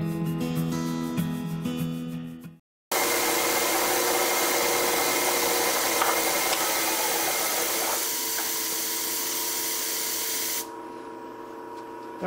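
A machine tool taking a clean-up pass on a metal broach bushing adapter: a tonal whine cuts off, then a loud steady hiss and roar of cutting runs about eight seconds before easing to a lower, duller drone.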